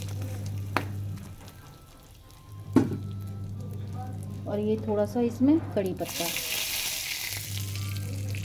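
Spices and asafoetida crackle and sizzle in hot oil for a tempering, with a sharp burst of frying after a few seconds, while a person speaks over the cooking.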